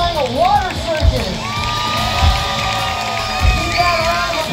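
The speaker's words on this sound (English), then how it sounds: "Keep that round of applause going for Troy Stone!" Crowd at a water circus jetpack show at Kennywood amusement park, cheering, whooping and children shouting amid a loud, continuous roar of outdoor noise, with a voice talking through it.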